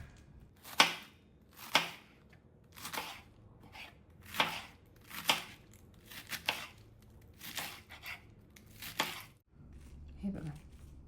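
A knife chops crisp lettuce on a board in about nine steady, evenly spaced strokes, close and clear, before stopping near the end.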